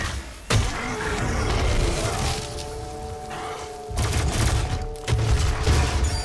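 Rapid gunfire from the video game DOOM, dense bursts and booming thuds of shooting at enemies with a sustained drone of game music underneath, loud and continuous with sharp hits near half a second and around four and five seconds.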